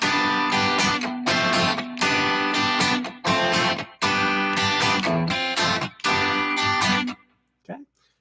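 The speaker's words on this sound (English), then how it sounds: "I've added in some muted strums" Guitar played with rhythmic strummed chords broken by sharp, choppy muted strikes, loud and close, ending with a short isolated pluck.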